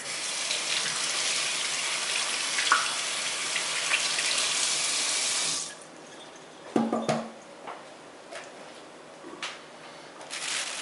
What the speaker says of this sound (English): get my hands washed real quick